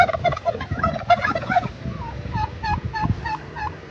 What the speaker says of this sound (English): Turkeys can also be noisy